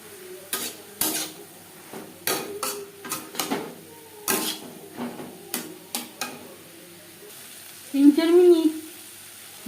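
Spice masala with turmeric and salt cooks in a pan amid a run of metal spoon clinks and scrapes against the pan, a soft sizzle underneath and a brief whining tone near the end.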